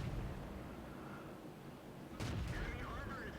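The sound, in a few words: tank cannon fire in World of Tanks video game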